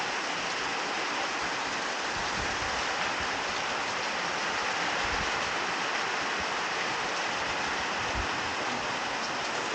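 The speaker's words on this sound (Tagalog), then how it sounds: "Raining really hard. See, there's another spout there." Heavy rain pours down outside in a dense, steady hiss with low splashing rumble, unbroken and fairly loud from start to finish.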